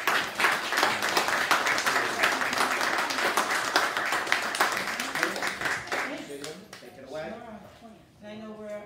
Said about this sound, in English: So let's all give her a round of applause.